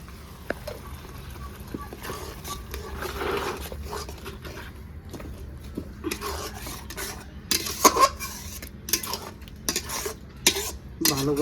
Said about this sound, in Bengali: ভালো করে কষিয়ে নেবো 2-3 মিনিট।